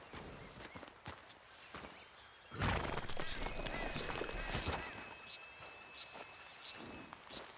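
Horse in Red Dead Redemption 2 whinnying loudly mid-clip over clopping hooves and rustling movement, with scattered game sound effects and a faint tone before and after.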